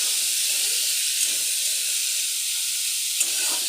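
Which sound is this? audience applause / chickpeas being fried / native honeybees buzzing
chickpeas being fried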